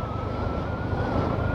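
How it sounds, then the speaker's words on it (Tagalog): Wind roars against the helmet of a rider on a Yamaha Sniper 155R motorcycle, a dense steady rushing close to the microphone with no voices. "Yung tunog ng hangin sa helmet ko."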